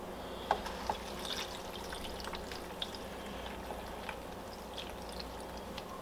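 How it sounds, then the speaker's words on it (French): Water trickles and splashes faintly into a mixer bowl for a protein shake, a low steady pouring wash with a few small splashes near the start, quiet and close. "Rajouter mon eau."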